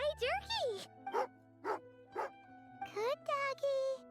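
Tugarin, a dog in the video game Genshin Impact, gives a string of short barks and yips in an irregular rhythm, close and clear, with bits of voice mixed in.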